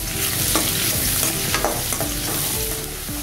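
Chopped onions sizzle steadily in hot oil in a pan for South Indian sambar, with curry leaves added, as a spoon scrapes and stirs them in repeated clanks. Close and continuous, with no talking.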